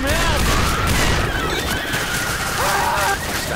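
Sustained volley of gunfire in the zombie shooter Left 4 Dead 2, loud and continuous with dense crackling shots, overlapped by shouting voices and a wailing game cry.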